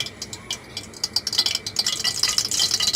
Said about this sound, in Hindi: अब हम इसमें घी डाल देंगे और इसे मेल्ट होने देंगे।